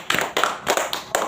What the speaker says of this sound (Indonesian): tepuk tangan untuk Alma